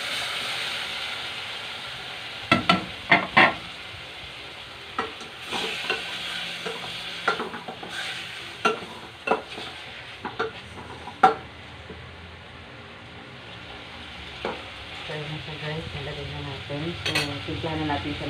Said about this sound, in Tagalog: So ilagay na natin yung salmon belly.